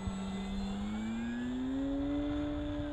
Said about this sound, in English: It's a nice flying plane though, guys. The Carbon Z Cessna 150.